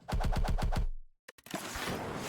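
A Barrage attack in the card game Slay the Spire: a rapid burst of six punchy, evenly spaced hits, then a short pause, two sharp cracks and a loud lingering noisy tail.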